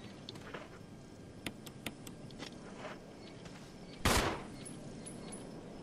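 Gunfire in the survival-horror video game Resident Evil: scattered sharp shots across a quiet, dark ambience, with one louder, longer blast near the end, no talk.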